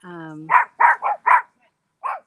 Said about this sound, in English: now I have dogs barking